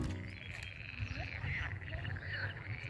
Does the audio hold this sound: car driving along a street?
no